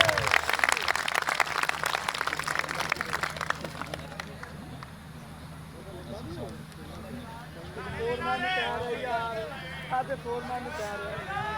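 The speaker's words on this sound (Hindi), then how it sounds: "एक बार क्लैपिंग हो जाए, तालियां हो जाएं" A crowd at a birthday event claps loudly for about four seconds, then the applause fades into murmuring voices and someone speaking over the room.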